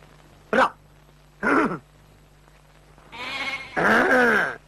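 Goats bleating in a rural village, two short separate bleats followed by two longer, louder wavering calls close by, over a low steady hum.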